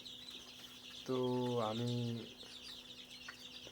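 A single loud, drawn-out call of about a second rises from a castrated rooster on a poultry farm, with quieter farm ambience and a brief voice speaking around it.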